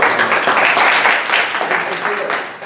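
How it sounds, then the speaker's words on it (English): A brief burst of audience applause after a startup pitch, dense and close, fading toward the end with a voice talking over it. "How about a round of applause, right?"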